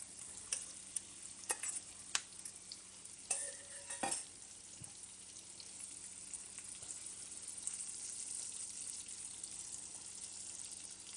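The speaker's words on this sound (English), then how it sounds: "We're going to add those shrimp that we seasoned earlier right into the pan." Seasoned shrimp go into a pan with onions, opening with a few sharp clacks and knocks, then a soft, faint sizzle that builds steadily and holds, with no talk.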